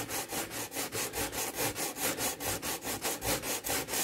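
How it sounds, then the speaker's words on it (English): A small hand file lightly strokes a model's surface in a quiet, regular back-and-forth rhythm, around a dozen soft rasping passes heard close up with no voices. "just got a small file, and just going to very lightly"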